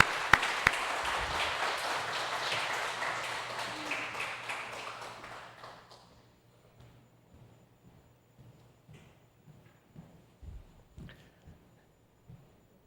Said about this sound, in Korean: 이명우 선교사님 나오실 때 박수로 환영하도록 하겠습니다.